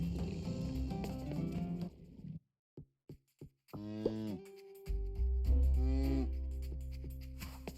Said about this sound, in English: Check on my cow.